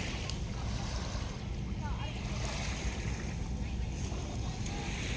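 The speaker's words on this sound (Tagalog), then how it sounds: "ang haplos ng alon" Sea waves wash against the shore along the Bauan boulevard in Batangas at night, a continuous rushing surge mixed with wind noise, no voices.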